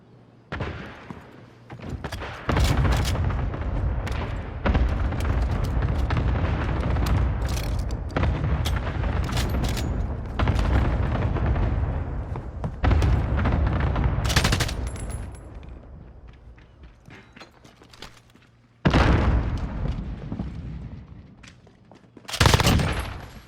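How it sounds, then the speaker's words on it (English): Cluster strike explosions and automatic gunfire in the video game Call of Duty, with loud booms and sustained rapid bursts rolling through long stretches, broken by brief lulls and sharp blasts near the end. "Enemy cluster strike incoming. Take cover."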